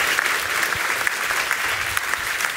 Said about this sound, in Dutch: Partij voor de Dieren, een applaus.